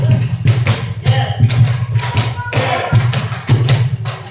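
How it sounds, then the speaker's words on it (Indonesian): A group claps a rhythmic pattern in a school session: two sets of five claps followed by four more, crisp and close with steady spacing between bursts. "2 kali tepuk 5 tambah 4."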